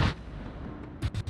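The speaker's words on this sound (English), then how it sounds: "So I can actually just dump shells into the broadside and we can see the damage output." Warship shells firing in World of Warships, one heavy boom at the start followed later by three quick booming shots in a row, all loud and near.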